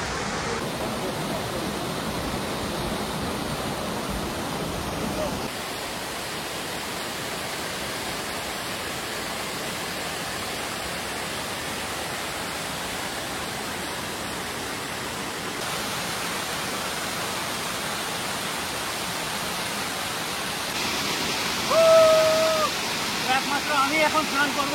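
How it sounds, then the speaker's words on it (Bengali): Bhadbhadi Falls in Purulia gives a steady, broad roar of falling water that holds nearly unchanged throughout, close and enveloping, with a faint high tone and a slight swell near the end. "এই ঝর্ণার আওয়াজটা শুনে যেন প্রাণটা জুড়াচ্ছে"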